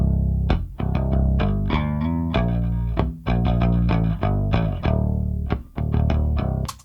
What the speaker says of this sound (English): Then added some distortion to the upper frequencies and then added chorus